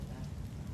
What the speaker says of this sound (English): It's raining today, unfortunately.